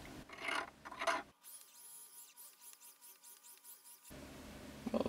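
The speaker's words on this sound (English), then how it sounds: "Get the round inside file." A round file rasps back and forth inside a 24k gold wedding ring to remove a burr, producing a steady series of close, soft scraping strokes that last a few seconds before stopping.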